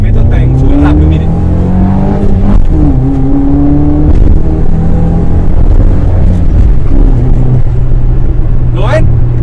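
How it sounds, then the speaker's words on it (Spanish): A stationary car's engine is loud and close as it revs up quickly and drops back, its pitch rising and falling in a few swells, while someone talks over it. "Miren esto, si yo subo rápido de revoluciones,"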